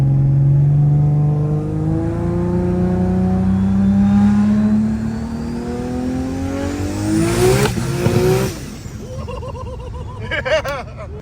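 A TH400-swapped Nissan R32 Skyline GT-R on low boost accelerating hard, the engine note rising loud and steady through a long pull before a gear change and further revving, close to the car.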